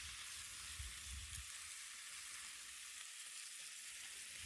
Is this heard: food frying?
yes